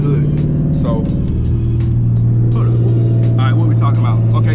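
A manual car's engine hums steadily from inside the cabin while driving, a loud continuous drone with slight pitch shifts, with someone talking over it throughout.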